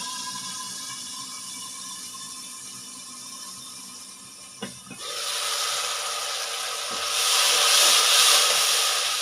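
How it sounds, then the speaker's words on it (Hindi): Water poured into a pan of onions frying in oil hits with a sudden burst near the middle, swelling into a loud, steady sizzling hiss that grows stronger toward the end; no one talks. "हम इसमें थोड़ा सा पानी डालेंगे"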